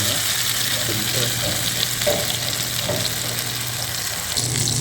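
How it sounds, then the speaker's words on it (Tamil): Steady sizzling of seer fish frying slowly in hot oil on low heat, a continuous crackle with a low hum beneath and occasional faint clinks. "இது நல்லா பொரிக்கணும்பா. ஸோ ஸ்லோவில் தான் வச்சு பொரிக்கணும்."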